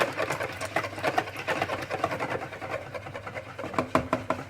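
An electric whisk whirs steadily while beating lemon tart filling in a bowl, a close buzzing motor with light rattling against the bowl, alone without talk.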